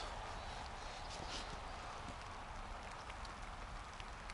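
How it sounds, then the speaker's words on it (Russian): Steady rain drums on a surface outdoors on a cold, overcast day in Siberia near Tyumen, a dense, even patter with no letup. "А дождик все барабанит и барабанит."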